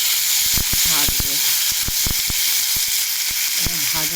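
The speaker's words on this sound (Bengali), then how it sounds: "এরপর আমি তেলটা গরম হয়ে যাক, তেলটা গরম হয়েছে, আমি কাঁকড়াগুলো দিয়ে দেবো।" Crab legs frying in hot oil, a continuous bright sizzle with repeated utensil knocks and scrapes against the pan, close and steady throughout.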